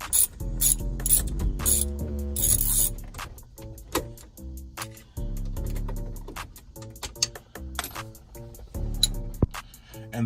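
Ratchet backing screws out of a Chevrolet Tahoe dash during a head unit swap, with bursts of close mechanical clicking, irregular pauses and short shifts between strokes.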